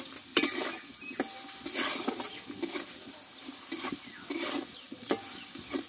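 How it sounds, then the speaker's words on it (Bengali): Potatoes are stir-fried slowly in a little oil with a gentle continuous sizzle, broken by sharp scrapes and clanks of a spatula against the pan at irregular intervals, close and fairly quiet with no voices. "দেখো আলুটা আমি অল্প আছে খুব ধীরে ধীরে কষে নিয়েছি।"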